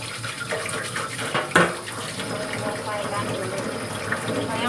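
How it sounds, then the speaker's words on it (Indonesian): Tap water runs steadily into a sink while a bottle is being washed, a continuous close splashing hiss with a brief louder knock partway through. "Soalnya kalau sambil ngomong terus sambil nyalain keran itu berisik sekali"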